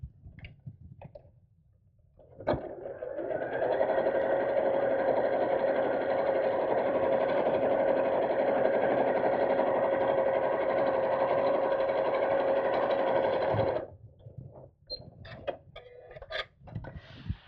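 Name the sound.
sewing machine top stitching across a seam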